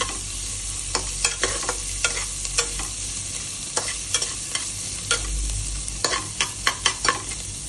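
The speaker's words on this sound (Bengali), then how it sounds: "নাড়াচাড়া করে পেঁয়াজগুলো খানিকটা ভেজে নেব, বেশি ভাজবো না" Onions fry in a pan with a little salt, a constant sizzle broken by repeated sharp scrapes and clinks of a spatula stirring, close up and without speech.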